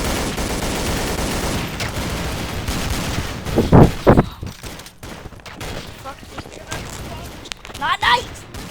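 Gunfire in a shooter video game, a dense burst of shots and bangs in the middle with scattered bursts later, loud and close, with a voice talking over parts of it.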